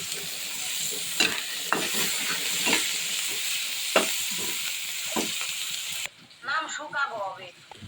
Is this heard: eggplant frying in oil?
yes